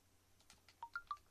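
A phone sounds a few quick, faint electronic tones during a Minecraft build session. The tones come as three short beeps in rapid succession over low room noise.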